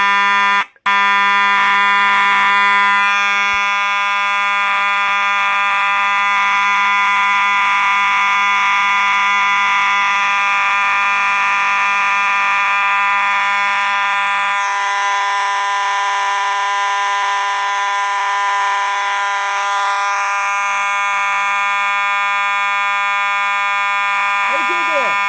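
A mechanical fire alarm horn strobe blares during a test, a loud continuous harsh buzzing tone that stays steady for the whole stretch after a brief click at the start, with slight shifts in pitch midway.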